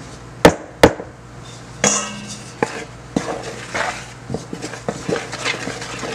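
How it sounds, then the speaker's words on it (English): Spatula or spoon scraping around a mixing bowl while folding flour into banana nut bread batter, with sharp clinks early on and then a run of soft, irregular scrapes and taps close by, no talking. "And just scrape around my bowl. Continue to get all that flour in there."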